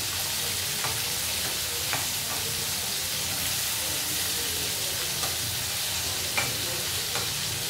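Hilsa fish sizzling steadily in hot oil in a pan, a continuous broadband fry with occasional sharper pops and spatters scattered through, close and moderately loud with no talking.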